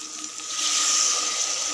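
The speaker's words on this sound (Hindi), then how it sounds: "तो अब मैं इसमें थोड़ा सा पानी का छींटा दूँगी" Water splashed into a pan of onions frying in a home kitchen for an Indian gravy, a steady hissing sizzle that swells and holds loud for under two seconds, with no talking.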